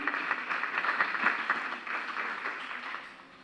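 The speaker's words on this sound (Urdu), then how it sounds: "آج کی اس تقریب کی میر کارواں کو ذرا تالیاں بجا کر بھرپور شکریہ ادا کیجیے۔" Audience clapping at a Youm-e-Iqbal (Iqbal Day) ceremony, a steady, fairly soft patter of many hands that gradually thins out toward the end.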